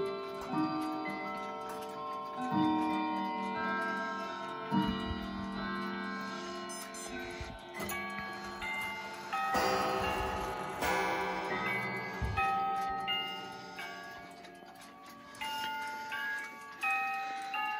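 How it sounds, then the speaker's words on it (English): A collection of clocks, including a Korean clock, strikes two o'clock, with overlapping metallic chimes and gongs ringing out one after another over a steady background of ticking, all heard close by without talk. "we will just listen to the clocks chiming 2 p.m."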